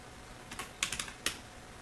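A few faint, crisp keystrokes on a computer keyboard: a short irregular burst of clicks with brief pauses, close and quiet, with no one speaking.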